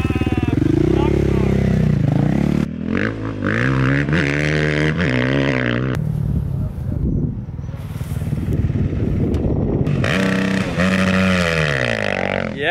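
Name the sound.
motorcycle revving in fourth gear for a canal jump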